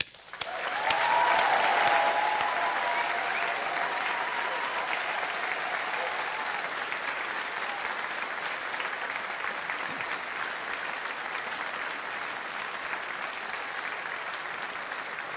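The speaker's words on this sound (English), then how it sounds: "offering our heartfelt congratulations to our graduates of 2024 for their collective achievements and success with a round of applause." A graduation ceremony audience of the Strathclyde Business School gives a long, sustained round of applause that swells quickly, then holds as steady, even clapping from a large crowd in a hall, with no talking over it.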